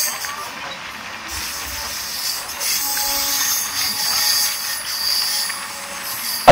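Dhauli Express superfast train pulling into Puri railway station, a steady rumbling rush of carriages and wheels with faint squeal and hiss, fairly loud and continuous.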